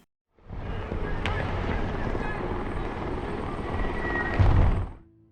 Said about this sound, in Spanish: Más de una docena de helicópteros despegaron desde el aeródromo